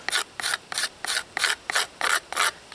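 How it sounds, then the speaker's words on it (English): A small knife scraping out the bowl of a carved wooden spoon, eight steady rasping strokes in an even back-and-forth rhythm, close up and with no voices. "I can get in there and get these spoons scraped out"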